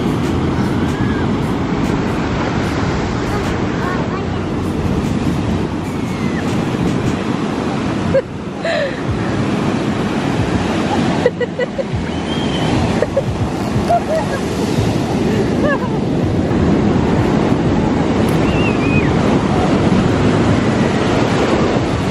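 Surf rolling steadily onto the beach at Half Moon Bay, a continuous broadband wash of waves mixed with wind buffeting the microphone, loud and unbroken throughout.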